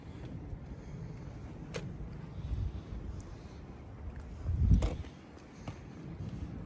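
Wind blows across an outdoor fire pit of hot coals, a steady low rushing buffet with a couple of stronger gusts and faint knocks.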